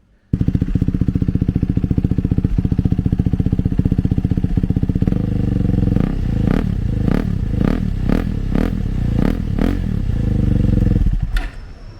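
A KTM 390 Adventure single-cylinder motorcycle with the exhaust dB killer removed idles with a loud, even thrum, then fires off a rapid series of sharp throttle blips close by before settling again.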